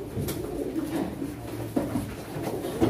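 Pigeons coo softly and repeatedly at a pigeon auction, low throaty calls rising over a steady murmur of background noise.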